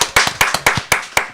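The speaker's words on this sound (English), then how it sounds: "A round of applause for Jacob, the engineer, today." Hands clap in a quick, regular series of about seven sharp, close claps at the end of a live event broadcast.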